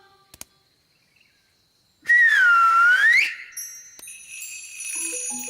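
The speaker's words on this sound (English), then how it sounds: "It can't talk, but it can make a sort of tinkly sound." A cartoon magic wand sounds in a children's animated show: a bright whistling glide, then scattered tinkly chiming tones after a short pause.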